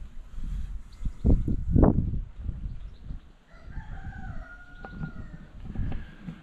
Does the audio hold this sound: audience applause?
no